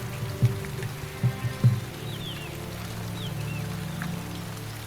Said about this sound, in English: The downpours get heavier and more frequent.